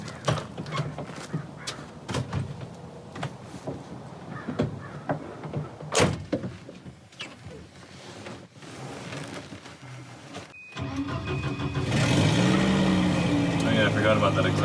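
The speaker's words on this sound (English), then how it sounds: "You really gotta slam it to make engagement on that pin." A Volvo 240's hood, adjusted after an accident, is slammed shut with a couple of sharp, loud thunks amid nearby handling noise and someone talking, followed by a rising engine rumble.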